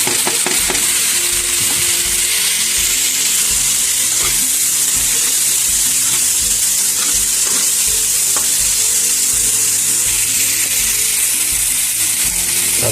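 Lentils for oats khichuri sizzle and fry steadily in a hot pan, with continuous crackling and occasional stirring scrapes throughout, close and loud, no talking.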